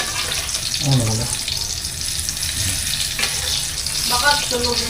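Food fries in a pan with a steady, fairly loud sizzle that runs throughout, while people talk over it at times.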